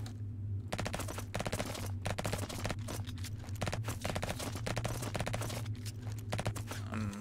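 An auto pistol in the Project Stray game fires in rapid, evenly spaced bursts, quick snapping shots repeating steadily over a low background hum, fairly quiet.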